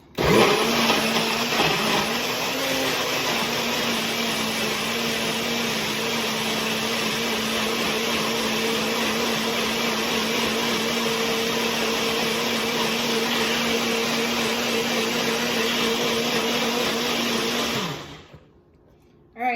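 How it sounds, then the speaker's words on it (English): A blender whirs loudly and steadily for a long stretch, grinding tropical fruit into a smoothie, then winds down and stops. "blend it until you see all of the fruit dissolve"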